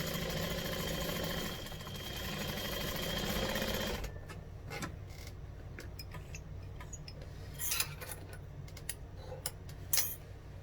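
A sewing machine stitches a fold-over fabric clutch, running in a steady, close mechanical whir for about four seconds before dropping to quieter, scattered ticks and clicks.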